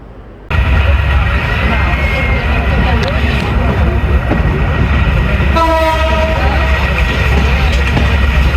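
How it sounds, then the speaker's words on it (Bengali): The Benapole Express from Dhaka to Darshana rolls with a loud, steady rumble and rattle of wheels and carriages, and a train horn sounds partway through. "দর্শনার উদ্দেশ্যে আমাদের ট্রেন চলতে আরম্ভ করেছে"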